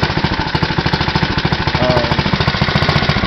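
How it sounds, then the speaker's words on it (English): A 6 hp Tecumseh go-kart engine runs just after a cold start, a loud, close, rapid chugging thump with an even rhythmic pulse through the whole stretch and no voices. "Very strong motor."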